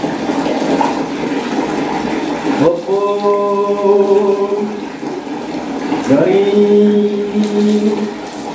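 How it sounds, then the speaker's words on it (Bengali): Hot water runs from a geyser for a bath as a steady rushing flow, with a person talking over it and tonal vocal sounds interrupting in two bursts. "গিজারটাকে অন করে দিয়েছি, গরম জলে স্নান করাচ্ছি।"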